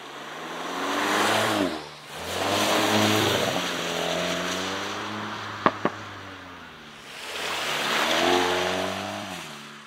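A 2021 VW Golf 8 GTI Clubsport accelerates on the motorway. The engine note rises in repeated pulls, broken by gear shifts and by two sharp pops or crackles midway, all under a steady wind and road roar.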